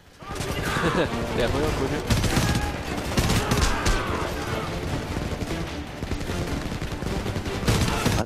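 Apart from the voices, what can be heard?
AK-74 gunfire at an enemy Huey in video game Homefront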